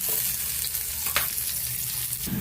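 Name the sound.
frying leftover rice in a pan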